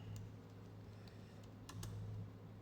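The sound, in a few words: typing on computer keyboard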